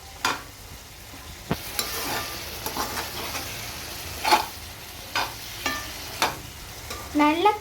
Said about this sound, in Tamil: அடிக்கடி கிண்டி விடணும்.